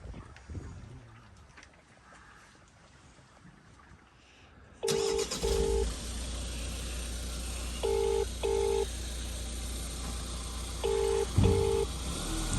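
A phone is dialed for a call inside a vehicle with its engine running, with short paired beeps repeating in three quick bursts over a steady loud engine rumble.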